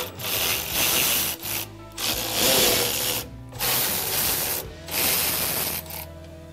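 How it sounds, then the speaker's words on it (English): A 13 mm socket ratchet backing out the cover bolts on a Weber plate compactor, heard as loud, dense grinding-ratchet bursts in four long strokes with short pauses between them, close up and with no talking. "We're going to use a 13 millimeter socket."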